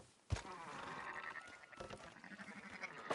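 Sheep in the Red Dead Redemption 2 video game bleat in several wavering calls after a sharp knock, with the animal cries overlapping at close range and fairly loud.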